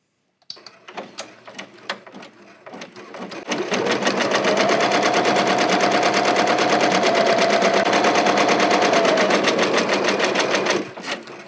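An embroidery machine stitches a glitter heat transfer vinyl appliqué, starting with a few clicks and light knocks, then settling into a loud, steady, rapid needle rattle with a constant motor whine that runs several seconds before stopping.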